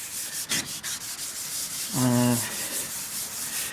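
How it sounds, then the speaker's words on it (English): Steady rasping of 800-grit sandpaper rubbed back and forth over a ute skull plate, with a brief low mechanical hum partway through. "I'm sanding it back using the 800 grit"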